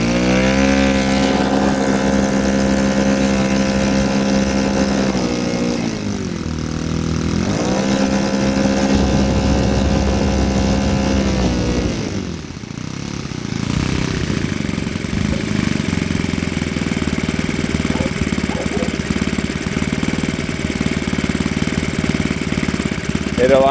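OS 91 four-stroke model engine running on camp fuel through a standard alcohol carburetor, a loud buzzing drone that holds steady, dips in revs twice and settles back into a rough steady run.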